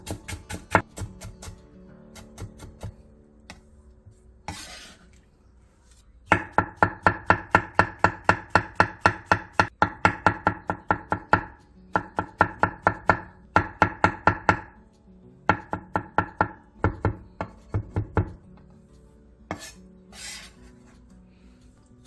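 Rapid knife chopping of vegetables, including broccoli, finely minced on a cutting board, fast rhythmic bursts of sharp taps with short pauses between, close and clear.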